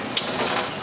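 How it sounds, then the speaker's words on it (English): Tap water runs steadily into a kitchen sink for rinsing, a brief, even, close rush of water with no pauses. "I'm gonna rinse it off in the clean side of the sink"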